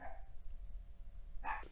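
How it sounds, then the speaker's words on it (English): A dog barks a couple of short times, near and fairly loud, at the start and again near the end, with a quiet room hum in between. "Please stop barking."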